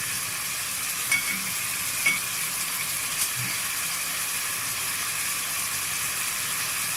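Stirring Egyptian mallow (khobeiza) in a pot with meat spices, a steady sizzling hiss with a few soft scraping clicks of the utensil, close and continuous with no talking.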